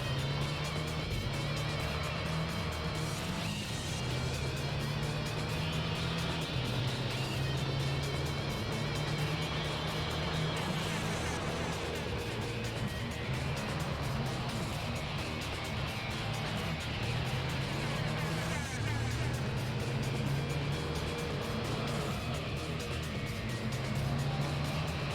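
Racing car engines from the Gran Turismo 3 video game hum in a continuous, fairly quiet drone that rises and falls slightly over the whole stretch, with no clear talking.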